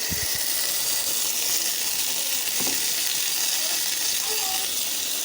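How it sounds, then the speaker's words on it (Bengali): Taro (kochu mukhi) fries in oil in a pan with a loud, steady sizzling hiss, close up and continuous from start to finish. "প্যানেতে দিয়ে দিয়েছি তেল, দিয়ে দিয়েছি কচুরমুখি"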